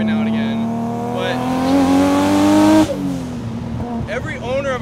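An 800 HP Nissan Skyline R32 GTR accelerating hard, its engine note climbing steadily through the revs before a sharp cut and a burbling shift, loud and close, with someone talking over it.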